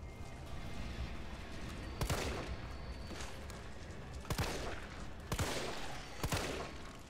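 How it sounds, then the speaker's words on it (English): Gunshots in the Resident Evil 3 Remake video game: five sharp, loud reports fired singly at irregular intervals, each ringing briefly over a low ambient background. "it actually only takes a couple shots"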